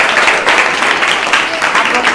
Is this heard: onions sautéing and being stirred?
no